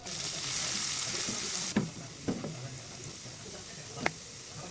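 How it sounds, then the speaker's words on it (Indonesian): Garlic sautés in melted margarine in a pan, a steady hissing sizzle that drops off sharply, followed by a few quick scrapes and clinks of stirring close by. "Tumis-tumis bawang putih hingga harum."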